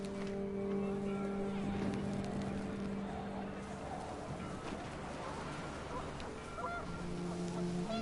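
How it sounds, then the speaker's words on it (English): Panicked geese honking in a gusty scene from the video game What Remains of Edith Finch, a cluster of calls rising over a steady wind and rumbling water-like background, with sustained tonal drones running throughout. "The wind picked up and panicked geese appeared and quickly went."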